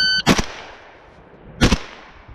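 Two sharp gunshots ring out about a second and a half apart at a practical shooting (SRA) competition, loud and close, each trailing off into quiet.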